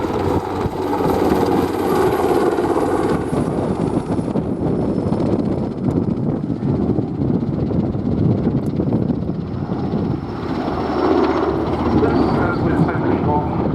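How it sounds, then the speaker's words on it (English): An NH-90 NFH maritime helicopter flies a search and rescue display at an airshow, its engine and rotor roar steady and loud throughout, with wind buffeting the microphone. "representation of search and rescue from this NH-90 NFH NATO frigate helicopter, the maritime version"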